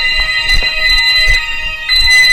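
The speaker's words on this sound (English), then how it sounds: "We'll just turn the fire alarm off quickly." A fire alarm sounds indoors during a barbecue cook of smoked beef ribs, a loud, steady high-pitched electronic tone that carries through the whole stretch with faint thumps and clatter underneath.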